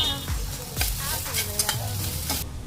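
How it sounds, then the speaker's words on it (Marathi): Soya chunks shallow frying in a pan with salt, a steady sizzle broken by sharp scraping stirs and clinks of a utensil, close and fairly loud, with no talking. "तर आपण सोया चंक्सला थोडंसं शालू फ्राय करून घेऊया."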